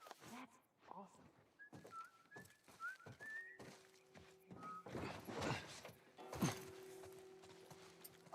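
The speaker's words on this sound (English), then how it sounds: "I'm whistling." Short tonal whistles from a character in the video game The Last of Us Part I, several brief rising notes heard over game ambience, footsteps and bursts of other effects.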